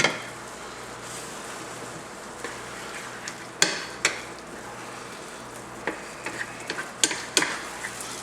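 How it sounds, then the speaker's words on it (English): Ground beef with taco seasoning mix cooks down in a pan, giving a steady soft sizzle broken by scattered sharp ticks and clicks from a utensil. "we're going to let this cook down for just a few minutes till the liquid evaporates"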